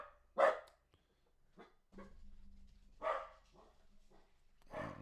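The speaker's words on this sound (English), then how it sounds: "I don't know what he's barking at." A pet dog named Maxi barks indoors, a few separate sharp barks spaced out over several seconds, moderately close and fairly quiet, with a low hum in the background.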